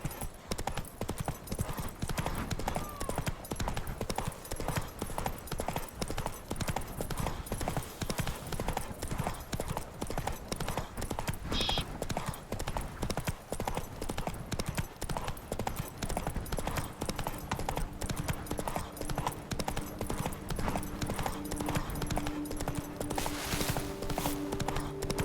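Horse galloping in The Witcher 3 Blood and Wine, with steady rapid hoofbeats that stay loud and close for the whole stretch over game ambience and low music, and a brief whinny partway through.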